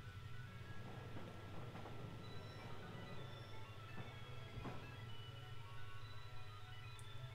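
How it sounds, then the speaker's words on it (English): A train arrives at a station in Pokémon Sword with a low continuous rumble and steady rolling drone, faint and even, with occasional light clanks and a small high chime near the end. "The train to the Isle of Armor has arrived."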